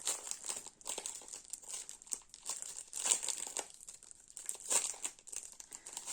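Crinkly plastic package of dollhouse kit pieces being opened by hand, with repeated close crackling and rustling bursts in an irregular rhythm, no talking.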